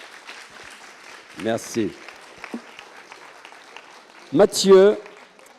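Audience applause at a student testimony event at the IUT de Troyes: steady clapping runs throughout, with a voice cutting in twice to speak briefly over it.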